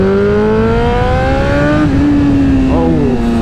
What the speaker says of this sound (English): Oh, that diesel pop